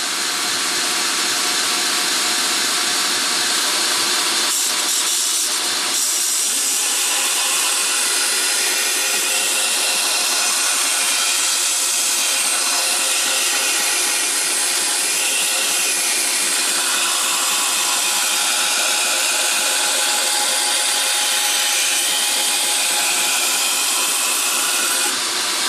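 A chef style knife having its bevels ground on a grinder, a steady loud broadband hiss and whine running continuously with no speech, a brief dip in intensity early on.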